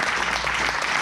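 A church congregation applauds continuously, a dense, steady burst of clapping that fills the whole moment without any voices rising above it.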